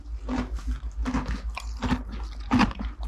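Steady crunchy chewing close up as a horse eats second-cut Timothy hay, rhythmic bites grinding through dry fodder, with a low hum underneath.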